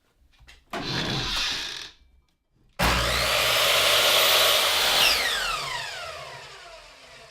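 A squared wooden bench seat for a picket bench is cut to length with a power saw: a short first cut burst, a pause, then a longer, louder, steady whine through the wood that slowly winds down, with no talk.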